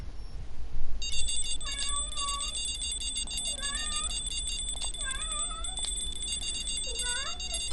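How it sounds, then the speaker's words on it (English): A pet cat meows loudly and repeatedly, its drawn-out, wavering cries rising and falling close by, over steady electronic beeping and a constant low hum in the room. "My cat's walking around screaming."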